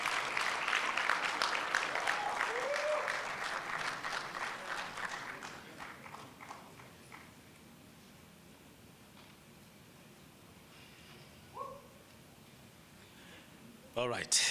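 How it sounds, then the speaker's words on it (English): A conference audience applauds a speaker, a dense wash of clapping that swells at first and gradually fades over several seconds into room quiet, with brief sounds near the end. "So let's give Dr. Mutapo a good round of applause,"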